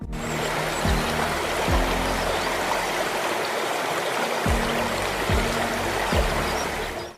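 Steady, full rush of the Upper Falls, a waterfall about 60 meters wide and 15 meters high in northern Michigan, roars without a break, broad and close, with a few low thumps and no voices.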